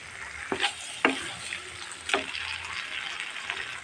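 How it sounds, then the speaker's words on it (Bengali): Duck eggs fry in a pan of korma masala, a continuous sizzle punctuated by three sharp clacks of a spoon or utensil against the pan, close and moderately loud, with no talking. "তাহলে আমি এখন ডিমটা দিয়ে দেবো। ডিমটা একটুখানি কষিয়ে তারপর আমি দুধ দিয়ে দেবো।"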